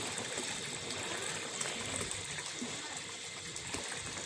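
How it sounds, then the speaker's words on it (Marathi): Water gushes steadily from a second tap at a farm, a continuous close, broadband rush with slight flutter and no pauses. "हे दुसऱ्या नळाचं चालू प्रेशर बघू शकता कसं आहे"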